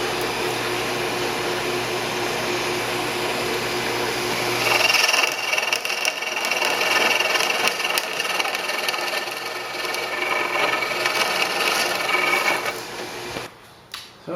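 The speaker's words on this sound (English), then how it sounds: "drill out, basically hollow out as much of it as I want with the drill" A power drill bores into a cedar wakesurf board, hollowing out the core with a steady, continuous whine and grinding buzz that runs close and loud, easing off and cutting out near the end.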